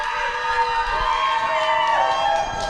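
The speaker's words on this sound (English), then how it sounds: "And the crowd goes wild here at Sacco Arena on the Donahue goal" A packed, standing-room-only crowd at a high school varsity hockey game in Sacco Arena roars and cheers after a goal, a loud sustained wave of shouting with high, whistle-like tones rising through it.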